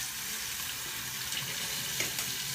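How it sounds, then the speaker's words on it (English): Tap water runs steadily into a sink while a razor is rinsed during shaving, a soft continuous splash with a few faint clinks. "Let's rinse off."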